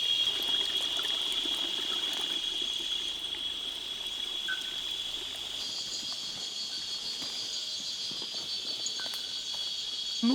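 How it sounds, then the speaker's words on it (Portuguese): Spring water wells up at the source of the Paraíba do Sul river, a steady soft trickle under a constant high chorus of crickets and insects in the surrounding woods. "13 milhões de pessoas ao longo da bacia do Rio Paraíba do Sul vão se abastecer desta água que aqui está brotando."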